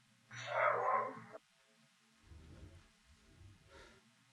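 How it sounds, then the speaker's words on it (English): A dog barks in a house, one loud burst near the start followed by quieter, scattered rustling and low movement. "There's one of those nasty dogs."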